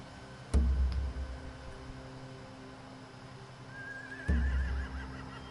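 Horses whinny in The Walking Dead video game, a single wavering neigh rising near the end between two loud low thuds, fairly faint against a hissy background.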